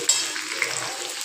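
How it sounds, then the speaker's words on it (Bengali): Pointed gourd (potol) frying in hot oil in a pan, a steady close hiss and crackle of sizzling with a couple of brief sharper pops. "তো পটলটা হালকা করে ভাজা হয়ে গেছে"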